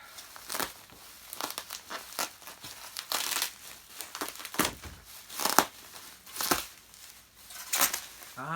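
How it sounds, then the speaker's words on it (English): Brown packing paper and bubble wrap are unwrapped from a Hoover Junior Model 375 vacuum cleaner, with repeated loud crinkling and rustling bursts in irregular rhythm, close up and with no talk. "lovely brown pack paper. Lots of bubble wrap."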